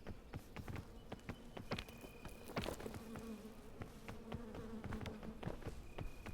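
Bees buzz steadily close by, a continuous insect drone with scattered sharp clicks and taps over it and no voices.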